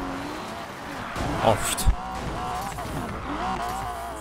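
A Porsche drives in the racing game Need for Speed Payback, its engine droning steadily with a brief tire squeal and a knock partway through, while a man exclaims over it.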